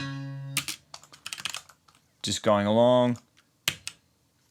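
Mouse clicks while a guitar track is edited in REAPER with grid snapping, a quick scatter of light clicks around a short spoken phrase, with a steady tone at the start.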